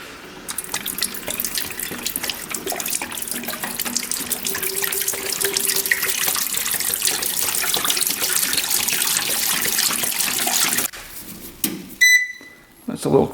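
Liquid splashes and runs steadily for about eleven seconds as Simple Green cleaner is poured while cleaning a rare motorcycle, then stops and gives way to brief handling knocks and faint tones.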